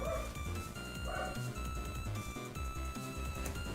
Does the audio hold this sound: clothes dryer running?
no